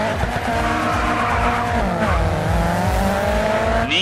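Race car tearing along the uneven streets of Miami in GRID 2, engine droning steadily with shifting pitch, tires squealing and skidding throughout, loud and close with no talk.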